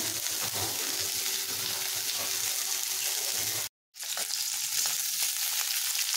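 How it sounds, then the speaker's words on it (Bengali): Capsicum frying in a pan, a dense, steady hiss of sizzling oil close up, broken once by a brief cut of silence before it resumes. "ভাজা হচ্ছে ক্যাপসিকাম, এগুলো ভাজা হয়ে গেছে বন্ধুরা।"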